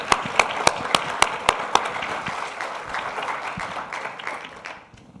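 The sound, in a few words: audience applause for the behind-the-scenes team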